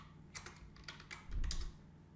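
Quick bursts of keystrokes on a computer keyboard while PHP code is entered, close and fairly quiet, several clicks grouped into short runs with a slightly heavier key press near the middle.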